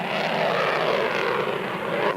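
Fighter jet engine running: a steady, loud, broadband roar that stays even throughout with no break, heard alone without talk.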